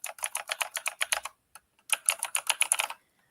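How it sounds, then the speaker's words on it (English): Razer mechanical keyboard with green switches typed on in two quick bursts, sharp clicky keystrokes close up with a short pause between them. "it's like super, super clicky because it's like I think it's like green switches that Razer has"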